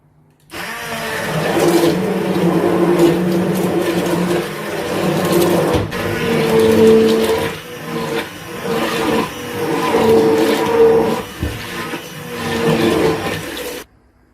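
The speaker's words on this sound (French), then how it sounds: "Une fois notre légume est prêt, on va les mixer." A blender purees cooked vegetables in a loud, sustained whir that runs for about thirteen seconds, its pitch rising and dipping as the load shifts, then cuts off abruptly.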